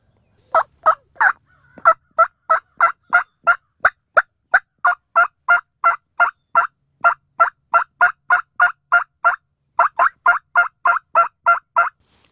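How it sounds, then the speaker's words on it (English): Wild turkey gobbling at dawn on opening day of Oklahoma turkey season: a long, steady run of sharp, evenly spaced gobbles and clucks, loud and close, with no talk over it. "Okay, I got my first gobble."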